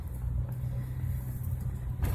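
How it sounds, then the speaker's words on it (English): Low, steady engine rumble from inside a car stuck in morning traffic, idling and creeping along with a muffled hum and faint road noise, no talking. "So I'm stuck in traffic"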